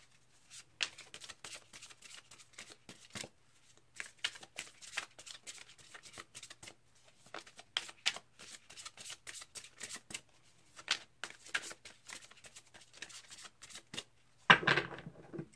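Tarot cards being shuffled in rapid riffling bursts, with short crisp flurries separated by brief pauses and a louder handling rustle near the end, close up and with no talking.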